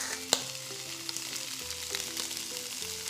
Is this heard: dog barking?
no